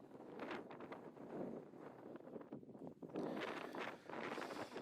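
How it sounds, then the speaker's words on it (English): Wind gusts across the open landscape around Gobekli Tepe, buffeting the microphone in a steady, rushing roar that swells and dips in waves, with no voices. "Breezy."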